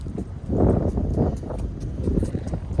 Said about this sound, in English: the wind is blowing right over this ridge